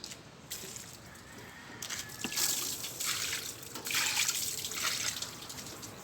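Soapy water splashes and trickles over the engine bay of a 2017 L200 during an engine wash. The running water is faint at first, then swells louder in bursts.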